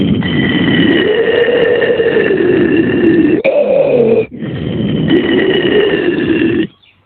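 A voice imitates a lion's roar: a long, rough, sustained growl with a brief break partway, then a second drawn-out roar before it cuts off.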